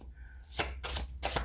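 A deck of oracle cards is shuffled by hand in three quick papery bursts, close and crisp, with brief pauses between them.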